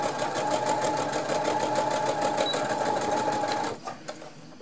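A sewing machine runs fast, stitching fabric back and forth in a steady, rapid mechanical chatter close by, then slows and stops near the end with a few last clicks.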